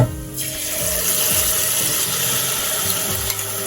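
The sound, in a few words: pouring egusi and water mixture into a pot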